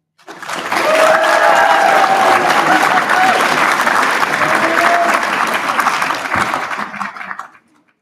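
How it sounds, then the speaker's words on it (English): Graduates at a winter graduation ceremony clap and cheer for the audience in a hall, a loud, dense burst of applause with whoops that rises quickly, holds steady, then fades out. "please take this opportunity to whoop, cheer, clap those in the audience who have brought you here today"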